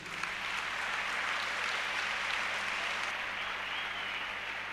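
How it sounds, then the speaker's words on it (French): A church congregation applauds and cheers in acclaim during a sermon. The sound is a steady, dense wash of clapping that holds at an even level throughout. "Acclamons Jésus."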